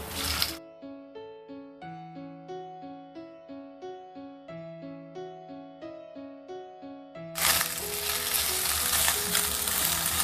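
Loud frying sizzle at the start, then a stretch of melodic instrumental music, then the steady hiss of chicken frying in a pan returns.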